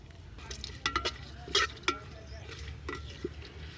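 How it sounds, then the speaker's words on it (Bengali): Dried red chillies and four bay leaves drop into hot mustard oil, giving a quiet sizzle under several sharp stirring clinks and scrapes of a spoon against the pan. "তেল গরম হয়ে গেছে, এর মধ্যে শুকনো লঙ্কা দিয়ে দিলাম, 4টে তেজপাতা দিয়ে দিচ্ছি।"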